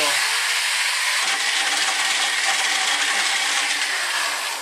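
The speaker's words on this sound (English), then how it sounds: "The drill starts to warm up a little bit." An electric drill grinds steadily through black walnut shells, a continuous loud hissing, rasping whine that holds without a break.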